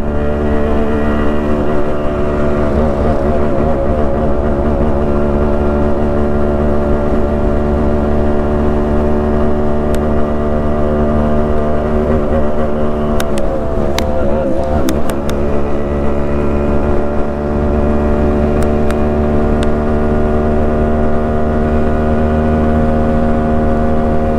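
Yamaha RX135 motorcycle engine while riding, a loud, continuous close-up drone with steady harmonic pitch shifting slightly over the run and brief clicks partway through, no talk.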